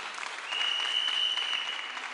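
A church congregation applauding a couple, a dense burst of clapping that swells after a moment and holds steady, close and full, with no voices rising above it.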